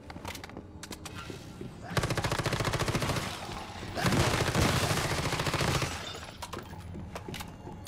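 Automatic gunfire from the survival shooter Once Human, with a Doombringer build mentioned, crackles through the scene. Two long, loud bursts of rapid shots dominate the middle, and scattered single shots come before and after, with no talk.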